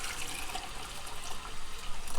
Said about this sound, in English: When you turn that off, I'm going to add the water.